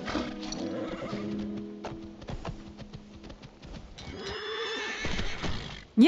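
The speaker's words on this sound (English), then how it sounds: "All right, we have a horse." Horse whinnying and hoof clip-clops in the video game Skyrim: a drawn-out neigh, then scattered hoof strikes and rustling, ending with a sharp loud sound.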